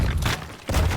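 A propane tank exploding after being thrown in a video game: two muffled booming bursts about half a second apart, separated by a brief lull.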